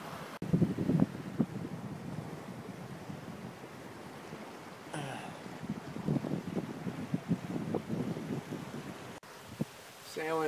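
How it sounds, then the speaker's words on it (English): Sailboat running dead downwind in about 6 knots of breeze on a bay: continuous wind rush and microphone buffeting over water, with a person talking intermittently. "Sailing dead downwind in about 6 knots."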